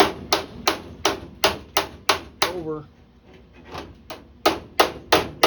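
Bodywork hammers tap a 1946 Jeep CJ2A body panel in a steady, quick series of sharp metallic knocks. The knocks pause briefly midway and then resume, with someone talking over them.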